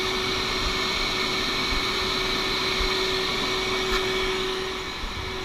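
A steady, loud shop vacuum motor drones continuously with a constant whine and broad hiss, no voices, tapering off slightly at the end.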